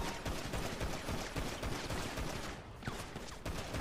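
Gunfire in GTA V on the NoPixel roleplay server, rapid bursts of shots in a dense fusillade, fairly faint, with a brief lull before the firing resumes.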